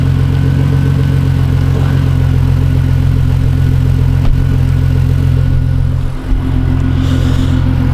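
A BMW E46 with a burble tune and an aftermarket exhaust runs at a loud, steady, rumbling idle close by, with one brief dip and crackle near the end.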